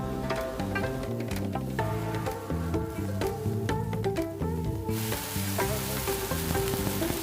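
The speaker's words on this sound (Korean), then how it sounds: "버섯이 맛있게 구워졌습니다." King oyster mushrooms sizzling as they pan-grill, a steady loud crackle and hiss of frying throughout, with background music playing and no talk.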